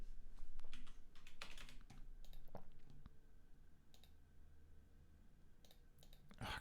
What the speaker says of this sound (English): Oh, crap, I keep clicking the same one.